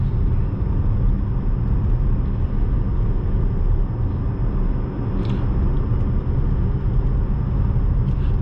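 Cabin of a 2021 Jeep Compass 80th Anniversary Edition compact SUV on the road, with a steady low road rumble and a slight, even wind hiss, quiet and continuous, with no one talking.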